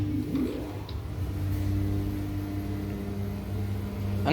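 A 1900s Waygood-Otis gated traction lift at 143 Charlotte Street descends with a steady low mechanical hum and whir, a brief rising tone near the start, and faint clicks over a constant drone.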